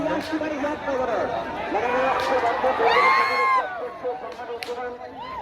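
A crowd packs the Savali maidan ground to see the bull Sonya. Many voices shout and call at close range, with sharp whistle-like cries rising over the dense, lively clamour.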